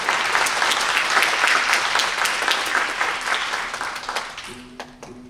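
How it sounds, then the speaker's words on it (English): An audience applauds warmly after a pair of dancers' arangetram performance, a thick wash of many clapping hands that gradually thins and fades toward the end. "Let's give these ladies another round of applause."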